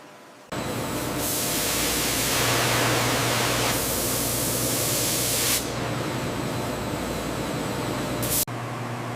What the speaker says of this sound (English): the potatoes are immediately blasted with high-pressure water jets to remove any excess starch before the frying process